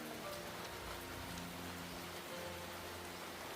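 Steady rain falls in a continuous soft hiss, fairly faint and even throughout, with no voices.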